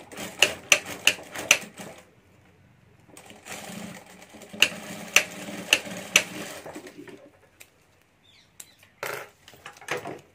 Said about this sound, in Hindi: और अब यहाँ भी हमें क्रॉस में सिलाई कर देनी है।